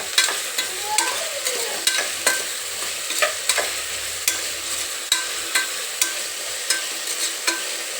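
Salted vegetables fry in a pan with a constant hiss and crackle, punctuated by regular sharp scrapes and clicks of a spatula stirring, close up and without speech.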